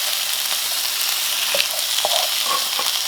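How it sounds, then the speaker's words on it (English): Carrots, bell pepper and bamboo shoots stir-fry in a hot pan for a pork stir fry, a steady close hiss of sizzling with a few scattered clicks and scrapes from stirring, no voices. "And we're going to stir fry for another 4 minutes."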